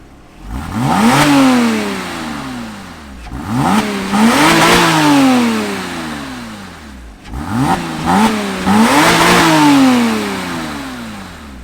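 A Porsche Cayman 987.1 on its stock exhaust revs three times in succession, each blip rising sharply and falling away smoothly, heard up close and fairly loud with no talking.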